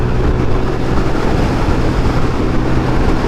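A Zontes GK350 motorcycle pulls hard under acceleration, giving a steady, loud engine drone mixed with rushing wind noise, with no talk over it.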